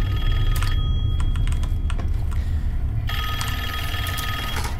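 Telephone ringing in the video game Call of Duty Black Ops 6, a high electronic ring that repeats in bursts over a loud low background rumble, with some clicking.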